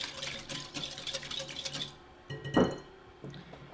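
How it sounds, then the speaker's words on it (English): A whisk beats milk and eggs for popover batter in a bowl, giving quick rapid clinking strokes for about two seconds, then a pause, one louder knock and a faint final tap. "and give it a good whisk"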